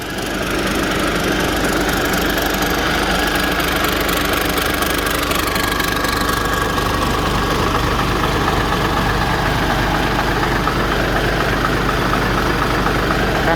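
A new twin-turbo combine harvester idling close by, a loud, steady diesel drone with a constant knocking rumble that holds unchanged throughout, with no talking.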